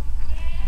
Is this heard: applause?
no